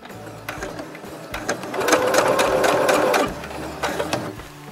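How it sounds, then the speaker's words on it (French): Electric sewing machine running a continuous burst of stitching on fabric for a homemade pot cover, close and steady in the middle, with short starts and stops before and after and no talk. "Là, j'ai commencé à coudre ici"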